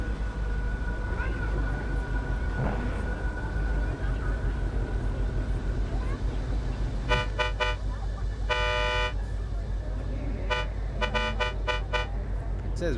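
Car horn honks in Cyberpunk 2077: a few short beeps, then a longer blast and a cluster of quick toots in the second half, loud over a constant rumbling game soundscape.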